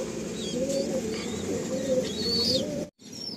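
Pigeons at a loft coo steadily in the background, with a few higher chirps and a brief dropout near the end.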